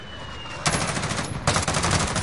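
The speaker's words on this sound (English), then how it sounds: "Precision airstrike, take cover." Precision airstrike in the video game Call of Duty: Modern Warfare: two loud, rapid, crackling bursts of repeated impacts like heavy gunfire, each lasting under a second, close and harsh, no talk.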